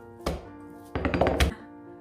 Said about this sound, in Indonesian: Kita banting-banting dikit.